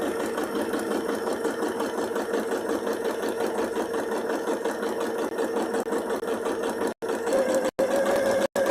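A sewing machine stitches an appliqué circle at a slower than usual pace, its needle making a fast, even mechanical whir up close. The whir continues almost without pause, then stops briefly three times near the end.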